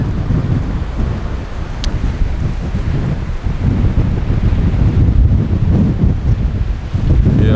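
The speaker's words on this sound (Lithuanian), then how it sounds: "Nes vėjas tai kyla." Strong wind blows across the New Zealand coast on a morning, producing a constant, loud buffeting rumble against the microphone with a low roar beneath and no voices.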